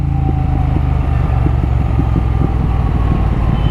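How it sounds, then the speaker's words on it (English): A motorcycle engine runs close and loud, giving a steady, deep, pulsing exhaust rumble throughout with no one speaking. "oh my god, this bike just sounds amazing"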